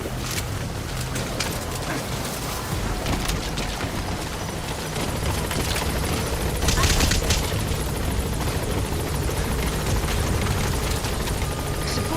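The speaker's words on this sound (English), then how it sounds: "Support helicopter requested." Support helicopter arriving in a video game, a steady loud rotor and engine rumble that swells slightly toward the middle, continuous throughout with no speech over it.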